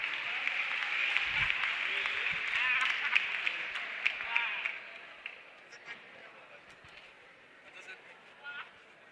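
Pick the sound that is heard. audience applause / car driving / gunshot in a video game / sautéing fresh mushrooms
audience applause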